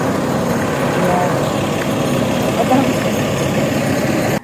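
A motorcycle idles close by on a rural farm path with a steady low engine rumble, while people talk over it.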